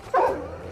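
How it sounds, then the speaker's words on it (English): A single ghost dog in the video game Banishers: Ghosts of New Eden gives one short, loud bark that tails off quickly, close by and alone. "Ghost dogs. Demon dogs or something."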